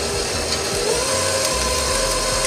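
A stand mixer with a paddle attachment beats cream cheese and whipping cream together, giving a steady, close motor whir with a constant pitched hum throughout and no voices.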